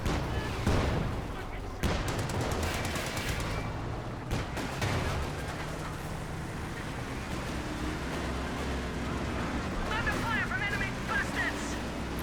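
Company of Heroes 2 concentration barrage lands as a series of distant artillery thuds and explosions in a battle scene, with a voice talking over much of it.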